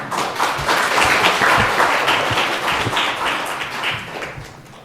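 Church congregation at a Sunday worship service clapping warmly to welcome a pastor coming forward to preach, a full sustained round of applause that slowly fades toward the end.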